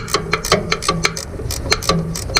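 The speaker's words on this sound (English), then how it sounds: "This time I got my ratcheting 9/16." Ratcheting 9/16 wrench tightening bolts on a 1940s BF Avery Model V tractor, rapid rhythmic clicking pawl strokes close by, repeated steadily and alone.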